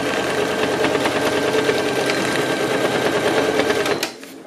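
A sewing machine stitches a fabric bag, running in a fast, steady mechanical chatter close up, then slowing and stopping near the end.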